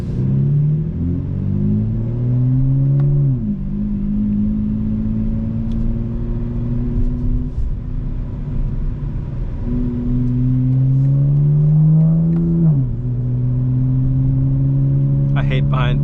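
A 2025 BMW M4 Competition engine pulls hard through the gears while driving, its rumbling note climbing in pitch, dropping at each shift, then rising again, loud and steady from inside the car.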